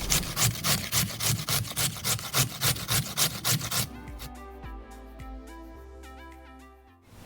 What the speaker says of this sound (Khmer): Shred the carrot for garnish.